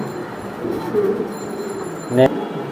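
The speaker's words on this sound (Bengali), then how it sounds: "একদম কালো কুচকুচে কবুতর দেখছেন আপনারা" Black pigeons cooing softly at a pigeon sale, with low throaty coos under faint background murmur and a brief louder call near the end.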